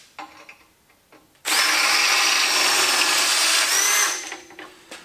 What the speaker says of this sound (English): it's a lot of drilling, kind of tiring me out